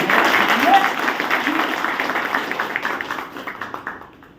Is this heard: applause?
yes